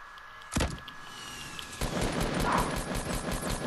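Video game gunfire in a duos match, a sudden close shot followed by a continuous rattling stream of automatic fire, loud and steady to the end.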